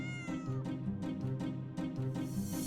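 A cat meows repeatedly and insistently, several drawn-out, wavering calls in a row, loud and close with nothing else heard.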